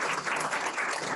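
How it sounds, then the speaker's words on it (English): Sustained audience applause for the presenters at the close of a day-long New Hampshire managed care and health benefits event, a dense, even wash of many hands clapping at steady volume throughout, with no talk over it. "Let's do a round of applause for all of our presenters"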